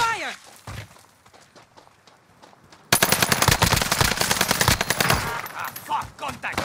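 Loud, close video-game machine-gun fire erupts in sustained bursts during a Caldera battle-royale match, following quieter footsteps and shots, with a player shouting over it.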